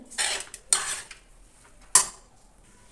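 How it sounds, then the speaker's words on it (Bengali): Fried lentil dumplings (bori) are added to cabbage cooking in a pan, giving three bursts of metal spoon-on-pan scraping and clatter, close and moderately loud with quiet pauses between and no voices. "এর মধ্যে আমি একটু ভাজা বড়িও অ্যাড করে দিচ্ছি"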